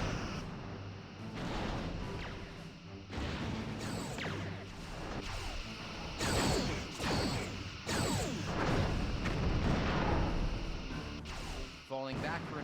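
Weapons fire and hits in a Star Trek space combat video game: dense, loud overlapping blasts, whooshes and crashing impacts that keep going without a break, with a few sharper bursts near the end.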